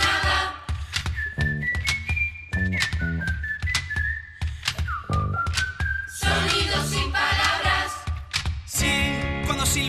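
Bright melodic whistling weaves through a full musical backing in a stage musical song, the tune rising and falling in short sustained notes over steady rhythm.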